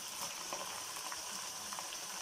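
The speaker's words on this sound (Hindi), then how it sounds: "अब हम इसके अंदर चिकन ऐड करेंगे" Chicken pieces frying together with onions in a pot for a village-style handi, giving a steady close sizzle with faint stirring crackles throughout, no voices.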